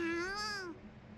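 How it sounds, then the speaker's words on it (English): A cat meows once in the visual novel Totono, a clear, close, rising-and-falling mew lasting under a second before fading into quiet background. "My gaze shifts in the direction of the meow."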